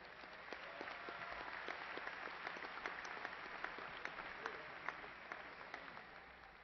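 A graduation ceremony audience applauds steadily throughout, a dense, even wash of many hands clapping at a distance in a large hall, with sharper individual claps standing out.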